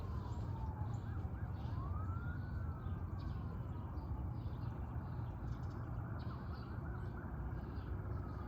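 An ambulance siren wails faintly from a distance as it passes, its tone sweeping up and down over a steady background rumble of traffic, with no talking.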